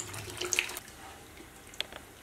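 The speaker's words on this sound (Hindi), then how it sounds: "पानी आपको डालना है तो अभी डाल दीजिए" Water poured from a tap or jug into a pot of sambar during home cooking, a brief close splash and trickle with a few small clinks, fairly faint, no talking.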